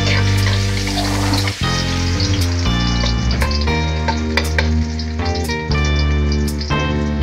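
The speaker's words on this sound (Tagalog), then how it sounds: "Ayan, lagay na yung bawang." Garlic fries in a small amount of oil in a pan, a loud, close sizzle that runs continuously with stirring scrapes and clinks over a steady hiss, no talking.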